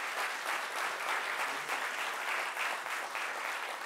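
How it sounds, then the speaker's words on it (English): Steady applause fills a city commission meeting room, a dense, even patter of many hands clapping without a break for about four seconds, with no talk over it. "So if you give a round of applause"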